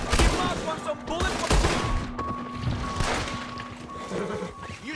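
Gunfire in the Western video game Red Dead Redemption 2, set in a desert, with sharp shots scattered through a busy mix of game sounds, horse or animal noises and voices talking throughout.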